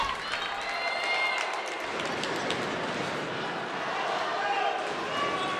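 Dense, loud crowd roar at a JV high school hockey finals game in a rink, swelling steadily louder after a goal, sustained cheering with no single voice standing out.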